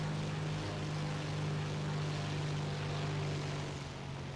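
A P-38L fighter plane in War Thunder, heard as a steady, close, droning twin-engine propeller hum with a strong low tone held throughout and no talking.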